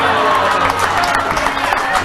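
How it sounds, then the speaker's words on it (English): Dense applause and cheering from a crowd, a steady wash of many hands clapping at close-to-moderate distance, with voices blended into the noise throughout. "They're clapping their own state's demise."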